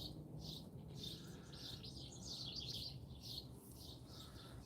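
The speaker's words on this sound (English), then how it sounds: "listen to the birds, and drink some percolated coffee" Birds chirping and calling in the early morning outdoors by a firepit, with bright repeated tweets coming steadily from several spots over a constant low background hum, no talking.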